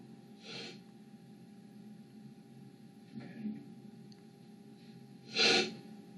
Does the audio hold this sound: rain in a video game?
no